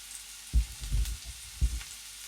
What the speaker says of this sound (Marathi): टोमॅटो छान परतून घ्यायचा आहे आपल्याला.